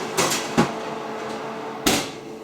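An oven door bangs shut as trays of pizza bread go back in, three sharp knocks and thuds, two close together near the start and a single louder clunk near the end, in a quiet kitchen.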